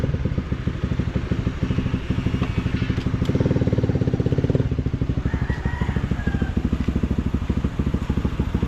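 Honda CB150X motorcycle idling close up in cool weather, a steady low-pitched chugging pulse that thickens briefly midway as the throttle is blipped, with faint voices in the background.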